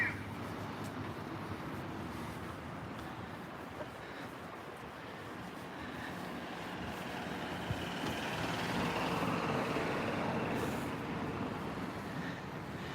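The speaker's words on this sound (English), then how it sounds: "There's the Fujinomiya bus." A city bus passing on a street in Fujinomiya, a broad, low road rumble that swells gradually and then holds amid general traffic and wind noise, with no talk.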